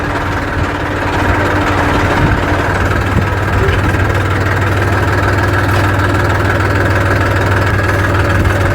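A farm tractor engine runs steadily at close range, giving a loud continuous low rumble with a rhythmic throb that does not vary.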